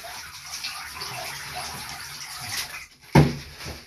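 Water runs through a container with holes in it: a steady close trickle and splatter, then a sharper splash near the end.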